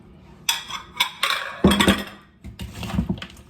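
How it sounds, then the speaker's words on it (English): Curry goat stirred in a pot, heavy scraping and clanking strokes of a spoon against the pot in several close, loud bursts. "Stir it."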